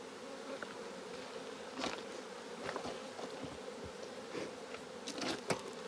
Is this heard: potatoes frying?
no